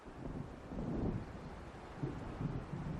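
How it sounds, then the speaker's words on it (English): Stormy weather in the Alan Wake video game, with low rumbling wind gusts and a thunder-like swell building around the one-second mark, then renewed surges near the end, steady and moderately loud throughout with no talk. "It seems there's a storm coming."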